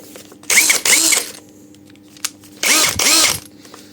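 A cordless power drill, powered by a rebuilt lithium battery pack, whirs loudly in two pairs of short bursts with a brief pause between each pair, no talking.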